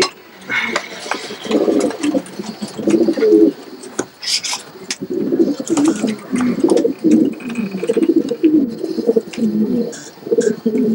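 Dewlap pigeons coo close by in repeated low throaty bursts, with clinks and background bustle between calls.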